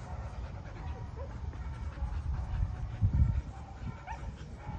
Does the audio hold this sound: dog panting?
yes